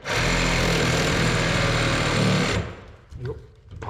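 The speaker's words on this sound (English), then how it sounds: "I'm hoping I can just get my recip saw in here and cut below this old solvent weld socket" A reciprocating saw cuts through an old plastic pipe just below a solvent-weld socket beside a thermalite block wall, a loud, steady close-up buzz for about two and a half seconds that then stops, leaving quieter handling noise and a brief voice.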